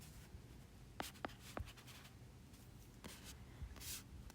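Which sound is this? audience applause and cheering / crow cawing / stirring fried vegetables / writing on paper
writing on paper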